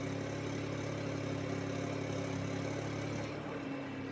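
A 2023 Volkswagen Virtus engine idles steadily at about 1000 rpm with a low, even hum that holds at a constant level throughout, no voices.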